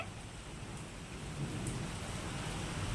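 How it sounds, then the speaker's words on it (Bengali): Heavy rain pours steadily, a dense continuous roar of drops with a deep rumbling low end throughout. "প্রচুর পরিমাণে বৃষ্টি হচ্ছে"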